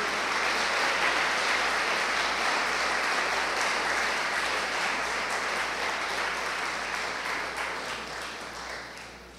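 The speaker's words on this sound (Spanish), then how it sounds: "Déle un aplauso a Jesús." A church congregation breaks into sustained, full applause that fills the room, steady for several seconds and then slowly fading.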